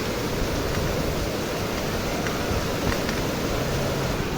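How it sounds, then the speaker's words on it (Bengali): Small hailstones pelt down in a sudden hailstorm, soaking a veranda, as a dense, steady roar of impacts with no voices. "শিলা বৃষ্টি হচ্ছে।"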